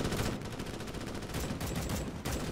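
Dense, continuous gunfire from the Starship Troopers: Extermination video game, a rapid stream of shots packed together with no clear gaps, loud and steady through the whole moment.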